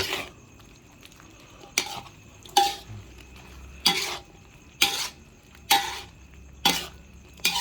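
Eggplant stir-fried with pork in a pan, with a low sizzle under about eight distinct, evenly spaced metallic scrapes and clanks of the utensil against the pan, close and clear, and no talking.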